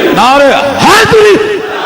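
A crowd at a religious gathering loudly shouts the slogan Naara-e-Haidari, with several raised voices overlapping in one brief, forceful burst.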